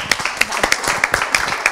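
An audience applauds a guest being introduced on an Italian theatre show, with dense, lively clapping that stays fairly close and continuous and has a few scattered voices under it.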